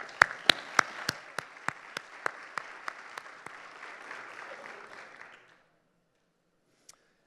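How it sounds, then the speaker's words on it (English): Applause at a community college chancellor's event, with a few sharp, loud claps standing out over a softer spread of clapping that fades out after about five seconds, followed by quiet. "Can we give them a round of applause, please?"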